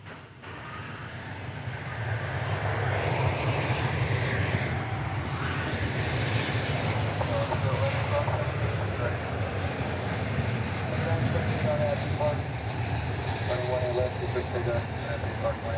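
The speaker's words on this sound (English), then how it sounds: "It's American Flight 2193 arriving from Tucson, Arizona, an Airbus" An American Airlines Airbus A321 arriving from Tucson at DFW Airport rumbles with a broad, steady engine roar that swells and holds, while a person speaks over it.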